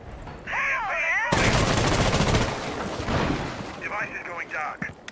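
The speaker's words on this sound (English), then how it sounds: "They're shooting at me." Rainbow Six Siege gunfire erupts in a loud, dense burst of rapid shots lasting over a second, with someone talking excitedly before and after.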